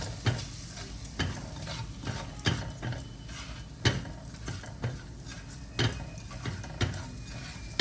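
Paneer sautéed with Everest garam masala in a pan: a steady background sizzle with regular scraping spatula strokes about once a second, close and moderately quiet, with no voices.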